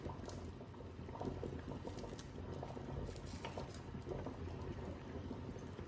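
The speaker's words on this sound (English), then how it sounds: "So we just take them off the boil" Potatoes boil in a pot with a close, busy, continuous bubbling and patter of rolling water, with no one speaking.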